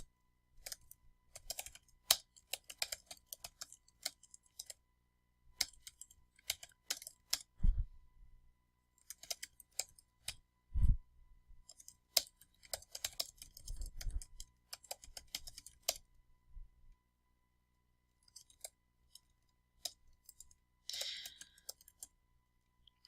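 Scattered bursts of keystrokes on a computer keyboard come in irregular runs with short pauses, fairly quiet and close, while a film review is typed, with occasional heavier thumps and no talk.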